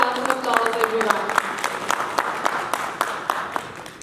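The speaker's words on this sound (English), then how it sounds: "Let us welcome him with a huge round of applause, everyone." An audience at an airline anniversary celebration breaks into applause, a sustained clatter of many hands, with a voice briefly heard over the start of the clapping.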